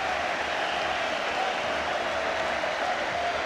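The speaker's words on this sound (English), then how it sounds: "Brian Laudrup's skill applauded richly on the terraces." A packed football stadium crowd at a Euro 96 Group D match between Turkey and Denmark applauds a Danish goal, a steady, dense wash of clapping and cheering that holds evenly from start to finish.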